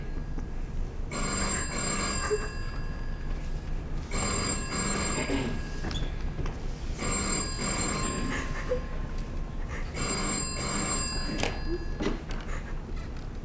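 A telephone rings during a stage play, four clear bursts of bright electronic ringing at regular intervals over a steady background hum.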